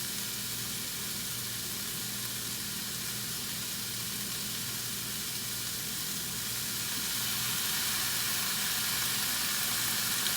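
Collard-style greens steam and sizzle in a pan after water and red wine vinegar are added, a steady broadband hiss that holds evenly and swells slightly louder toward the end, with no voices.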